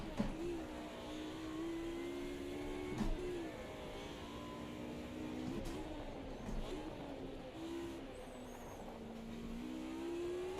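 A Group A Mercedes 190E racing engine in the Automobilista 2 sim at Circuit Gilles Villeneuve, droning and revving steadily throughout, pitch rising and falling with throttle, close and loud with no talk.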